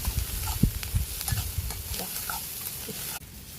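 Eggs and onion fry in a kadhai-style wok outdoors by a river, sizzling softly as a utensil stirs and scrapes in irregular knocks, close but fairly quiet.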